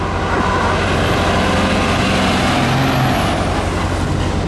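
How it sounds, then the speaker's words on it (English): A tow truck swinging a car is heard as a loud, steady heavy-engine rumble with a faint high whine and brief hissing, close by with no voices. "Swinging the tow truck."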